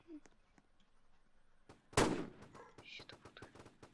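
Sniper fire in the Roblox shooter game Fortline: one loud, sharp shot cracks midway, with smaller clicks and game sounds around it and faint speech.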